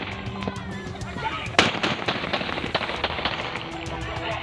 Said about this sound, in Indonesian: Petugas pun terpaksa melepaskan rentetan tembakan peringatan